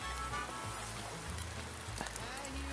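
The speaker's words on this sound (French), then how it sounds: "il pleut aujourd'hui, je suis au même endroit que le départ de la vidéo. On entend sans doute le cours d'eau" Steady rain falls outdoors beside a flowing stream, a dense continuous hiss with soft patter, close and even, with no voices over it.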